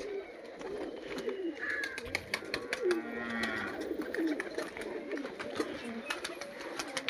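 Pigeons cooing close by in a loft, soft repeated throaty coos overlapping with scattered clicks and flutters, while a person talks quietly in the background.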